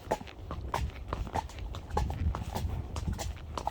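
A horse walks along a trail in a nature reserve, its hooves making a steady, close clip-clop rhythm of muffled thuds on the ground, moderately quiet and unaccompanied by talk.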